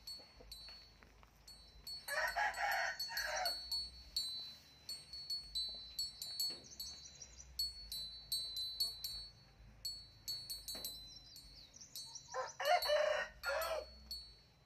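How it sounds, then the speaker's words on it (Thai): A rooster crows twice in a rural rice-field setting near hills, each crow moderately distant, with a gap of about ten seconds between them, over faint background bird chirps and ambient noise. "พอดีมีเสียงไก่พร้อม"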